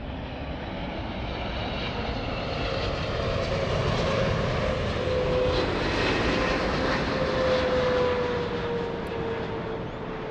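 A large Boeing 777 jet roars steadily throughout, a loud, sustained engine drone with a gradually rising whine as the aircraft takes off at Los Angeles International Airport, with no talk over it.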